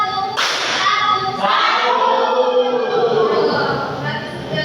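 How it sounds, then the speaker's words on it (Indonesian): Classroom of students giving a single sharp unison clap on cue, followed by chanting voices, with a second softer clap shortly after. "Tepuk satu, tepuk satu, satu."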